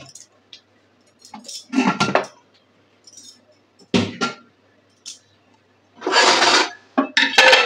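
Knife cutting stinging catfish, a few short, rough scraping and clattering bursts separated by quiet gaps, close and fairly loud, with occasional voice sounds in between.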